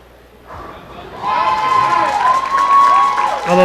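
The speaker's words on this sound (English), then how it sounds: "the Puerto Ricans still cheering like they have a chance" Crowd of Puerto Rican fans cheering at a trios bowling championship, a burst of shouts and whoops rising sharply and staying loud and close, with high voices carrying over the din.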